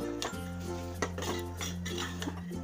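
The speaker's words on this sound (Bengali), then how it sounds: "এখন আমি একটু নাড়াচাড়া করে দেব।" Metal utensil scraping and clinking against a cooking pot while stirring lentils and banana flower, a few distinct knocks over a steady low hum, close and moderately loud.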